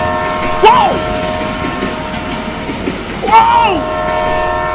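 A train passes a film set, rumbling steadily throughout with two loud drawn-out horn blasts a few seconds apart, while people cry out in surprise.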